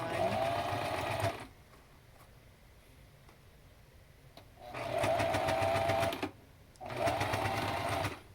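A sewing machine stitches fabric for a face mask in three steady whirring runs, close and loud, with quiet gaps between them where only a faint hum and light handling noise remain.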